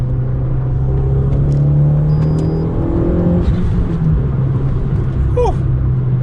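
A big-turbo Abarth 500 accelerates hard through the gears, the engine droning loud and close with a steady rising tone, a shift and fresh pull midway, and turbo whistles near the end.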